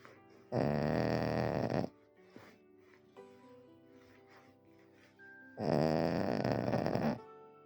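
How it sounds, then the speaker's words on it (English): A Boston Terrier snores twice, long and loud, each a rough rattling breath, separated by quieter wheezy breathing and faint snuffles, close up. "I'm actually concerned about it when I hear her snoring"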